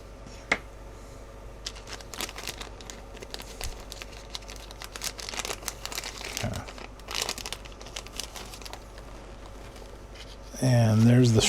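A plastic recovery system bag from an Estes Hi Flier model rocket is cut open and handled, giving close crinkling and rustling of plastic with scattered sharp snips and crackles.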